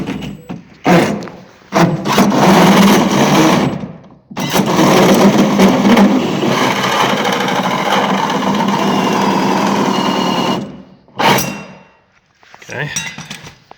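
A 4.5-inch hole saw cuts a vent pipe hole in a grain drying and storage bin. The drill makes a loud, sustained grinding, metallic roar in several runs, with short stops and restarts between the bursts.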